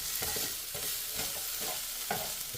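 Onions frying in a pan, sizzling steadily while being stirred and pulled apart, with soft scraping and clicking as the pieces are separated; close and moderately loud, with no talking.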